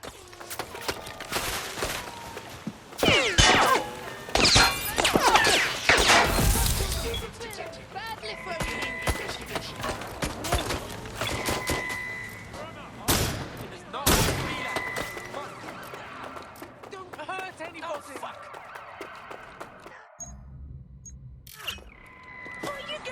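Gunfire in Watch Dogs Legion: loud, sharp shots and short bursts ring out repeatedly through the first half and again near the middle, mixed with voices talking and other game noise.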